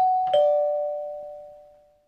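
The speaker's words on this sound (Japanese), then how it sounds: "ドアのチャイムが鳴る。" A two-tone doorbell chime from the PSP game Shin Mimibukuro sounds once, with a clear ding and then a lower dong that rings out and fades over about two seconds.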